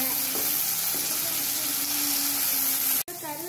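Chopped green chili and tomato sizzle and fry in a pan, a steady hiss and crackle with light stirring, as a person talks faintly under the cooking.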